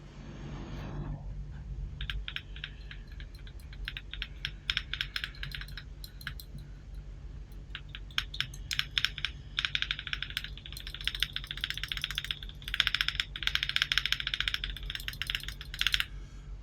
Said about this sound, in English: this stabilizer did have some rattle at the left side, so here's a sound test of it